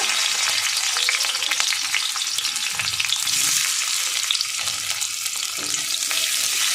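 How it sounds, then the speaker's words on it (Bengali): Potatoes frying in a pan of oil for a home cooked dish: a dense, continuous crackling sizzle close up, steady and fairly loud throughout, with faint stirring and no voices. "এই তেলের মধ্যে আমি আর একটু সামান্য তেল দিয়ে আলুগুলো ভেজে নেব।"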